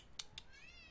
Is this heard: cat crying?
yes